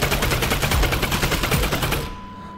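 Rapid automatic gunfire from a gun in Half-Life: Alyx rattles in a fast, even burst of close, loud shots, ending abruptly with a short fading tail.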